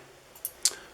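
Bent-bladed surgical scissors cutting through a plastic aircraft canopy: two quick, crisp snips close by, the second sharper, over a quiet room background.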